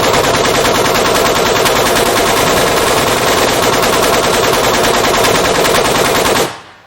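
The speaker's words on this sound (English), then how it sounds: "assassins hanging out the Cadillac's windows, machine guns blazing" Sustained machine-gun fire, as from assassins firing out of a Cadillac's windows during a movie ambush on a gravel road, rattles continuously and loud for about six seconds before cutting off abruptly.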